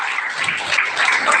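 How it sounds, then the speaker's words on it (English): Brief burst of audience applause at a live event in India, a dense even patter of many hands held for a moment. "Give a big round of applause to all."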